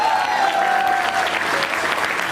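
Loud, continuous applause fills the room at an AWPL coach meeting in Patna as the mic is handed over, many hands clapping at once with an even, sustained roar and a faint tone beneath.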